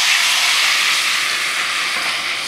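Taro pieces dropped into hot oil with turmeric for a crispy fry, giving a loud, dense, unbroken hiss of frying that holds steady and fades only slightly throughout.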